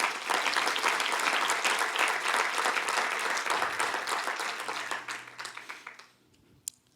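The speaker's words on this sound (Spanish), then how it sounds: "¿Cuántos pueden dar un aplauso y decir amén?" A church congregation applauds during a sermon, a dense, steady wash of clapping that holds for about five seconds and then thins out and fades to near silence.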